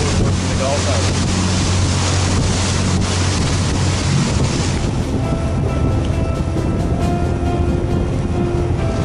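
Azimut 55 motor yacht running fast across Moreton Bay, a steady loud rush of hull spray, water and engine drone with heavy wind buffeting on the microphone, continuous throughout.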